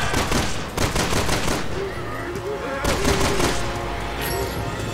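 Dense bursts of gunfire in the survival-horror game Resident Evil 6, loud, rapid shots overlapping with game effects while a player talks over the action.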